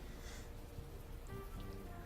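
Steady rain in the video game Unavowed hisses as a continuous, even wash, soft and unbroken, with no voices over it.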